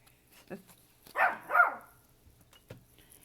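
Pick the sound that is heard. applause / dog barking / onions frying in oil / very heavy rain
dog barking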